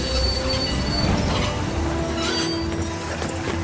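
Train wheels squeal steadily in a continuous harsh metallic screech over rumbling rail noise as the railroad cars move, with no speech.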